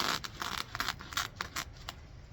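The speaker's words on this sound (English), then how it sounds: "Thankfully the weed barrier is easy to cut, so I'm able to cut it with no problem." Scissors snip through weed barrier fabric, giving a quick series of crisp cutting strokes, close to the listener and fairly evenly paced.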